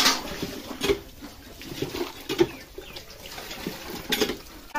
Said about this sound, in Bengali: পাতাগুলো ভালো করে ডলি ডলি ধুয়ে নিচ্ছি।